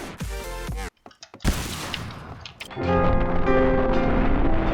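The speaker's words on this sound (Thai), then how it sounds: "โดนระเบิดตัวเอง" Grenade blast from the online shooter Point Blank: a gunfire burst, a sudden gap, then a loud broad explosion that rolls into a sustained rumble and clatter of game noise, with no voices.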